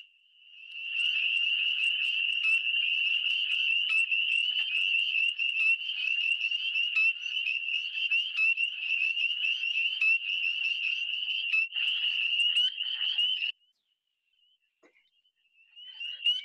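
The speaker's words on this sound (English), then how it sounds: "my favorite sound of all of spring. And that is a spring peeper." A dense chorus of high, piercing spring peeper frog peeps rings continuously and loud, then cuts off abruptly, leaving near silence with a faint click at the end.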